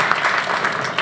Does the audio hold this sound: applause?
yes